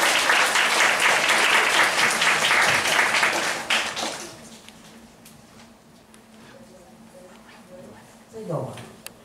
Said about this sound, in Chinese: 所以我们先热烈掌声欢迎房慧珍小姐